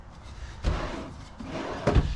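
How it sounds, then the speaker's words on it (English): A pull-out drawer in a luxury Heartland Landmark Newport RV slides along its runners and shuts with a soft thud, then a second firmer knock follows, close by. "Pull out drawers."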